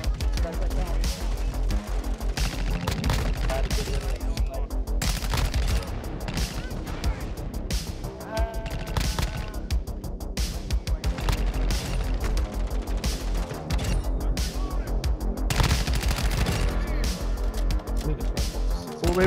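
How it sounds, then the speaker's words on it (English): Rapid bursts of Honey Badger gunfire in Modern Warfare II, sustained and dense across the whole stretch with booms and game noise mixed in. "Dude, this is such a nostalgic gun."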